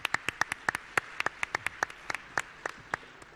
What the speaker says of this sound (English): give us a hand in giving a round of applause to the staff that have worked so hard to produce this event